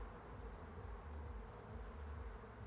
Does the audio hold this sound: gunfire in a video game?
no